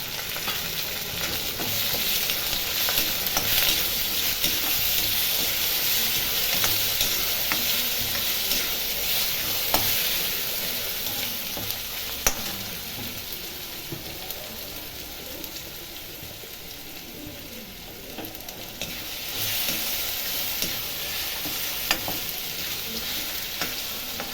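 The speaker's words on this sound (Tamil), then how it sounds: "நல்லா வதங்கட்டும்." Steady sizzling of ginger garlic paste frying in a hot kadai, a constant crackling hiss with occasional stirring scrapes, close and even throughout.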